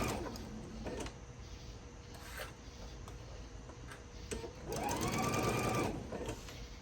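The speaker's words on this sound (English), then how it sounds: "I will sew my two pieces together." A sewing machine stitches two fabric pieces together, a close, rapid mechanical whirring and ticking that runs quietly, then swells into a louder, faster burst near the end.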